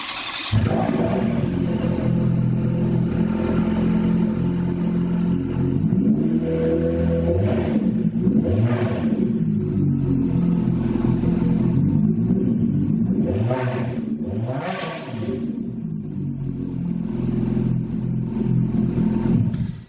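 Ferrari F430 V8 with a six-speed gated manual, loud and close, revving hard with rising and falling exhaust roars and deep rumbling between blips, running continuously throughout.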